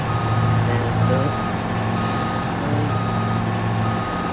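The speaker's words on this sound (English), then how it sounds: "here I'm just trying to back up, turn around so I can go back" A farm truck backs up during soybean harvest, its reversing alarm beeping in a steady repeated pattern over a loud diesel engine rumble, with a brief air-brake hiss midway.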